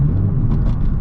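2020 Honda Civic Si with a PRL downpipe, rumbling steadily at close range through a downshift, with a dense low exhaust drone and slight rises in tone.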